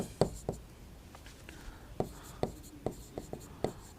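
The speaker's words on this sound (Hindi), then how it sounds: "लिख सकते हैं इसको भी हम" Handwriting in Hindi, likely on a board or page, with a series of short, distinct scratching strokes in irregular rhythm, close and fairly quiet, alone without talk.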